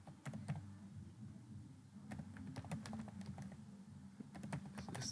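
Soft keystrokes on a computer keyboard tap at an irregular pace during a hacking exercise walkthrough, the quiet clicks sitting over a low steady room hum.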